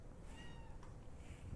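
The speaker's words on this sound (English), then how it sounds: "I don't know if you guys can hear her. She's meowing right now." A female cat gives a single thin, rising-and-falling meow indoors, faint and brief over a low background hum.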